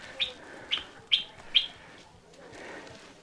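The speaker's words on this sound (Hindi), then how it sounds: "इंसेक्ट परिंदों की आवाज़ आ रही है मुझे तो।" Birds chirp in short, repeated calls on a hillside trek near Bangalore, four sharp tweets in a row followed by a softer call, set against quiet open-air ambience.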